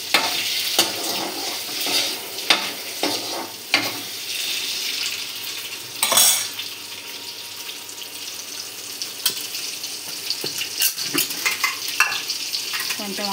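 Eggs frying in oil in a pan on low heat for an egg masala curry: a continuous loud sizzle and crackle, broken by stirring scrapes and a few sharp spatters, close and clear.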